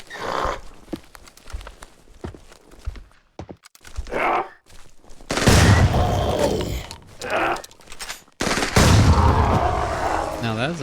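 Bursts of SMG fire from a zombie in the top-down roguelike game DDoD, loud rapid volleys in two main stretches over quieter game sounds and scattered footsteps.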